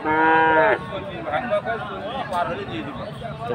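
A Sindhi breed bull at a cattle market gives one loud, drawn-out moo close by at the start, followed by market chatter and the murmur of a crowd.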